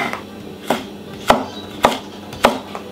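Five sharp knife chops on a cutting board at a steady, unhurried pace, each crisp strike close and distinct, as carrots are sliced into thin julienne strips; no talk.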